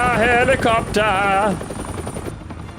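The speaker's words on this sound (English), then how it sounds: "Helicopter." A helicopter in Batman: The Telltale Series gives a loud, steady rotor roar under bright, wavering tonal game sounds. It fades down over the last second.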